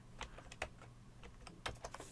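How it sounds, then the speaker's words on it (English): Keys tapped on a computer keyboard to enter text into a search box in ArcGIS mapping software, several quick irregular keystrokes, close and fairly faint over a low steady hum. "I could even start typing some of the text in this little box here."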